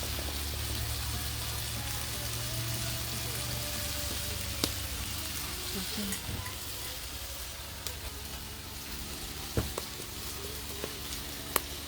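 Sweet potato noodles and Italian sausage with bora beans and carrots sizzle steadily over an open fire outdoors, a continuous frying hiss with occasional sharp pops and stirring clinks, close and fairly loud.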